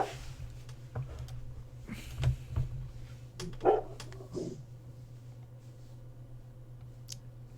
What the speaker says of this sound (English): You hear other dire wolves in the distance barking